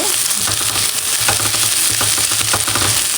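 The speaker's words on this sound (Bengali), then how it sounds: "এখন আমি একটু নাড়াচাড়া করে দেব" Onion, garlic and green chillies sizzle loudly and steadily in a hot pan while a utensil stirs them with scraping strokes.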